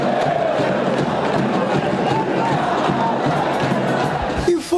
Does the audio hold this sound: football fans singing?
yes